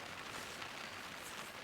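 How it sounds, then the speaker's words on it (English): Rain drums steadily on a truck camper shell over a Tacoma pickup in the early morning, a dense, even hiss of drops close by with no other sounds. "by the sound, it's raining."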